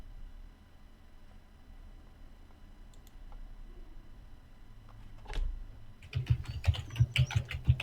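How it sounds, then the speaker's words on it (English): Typing on a computer keyboard: soft, quick key clicks build into a denser, louder burst of tapping near the end, after a quiet stretch with faint ticks and no speech. "Oh, he's typing."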